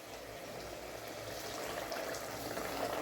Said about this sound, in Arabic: انا نمرق بشويه ماء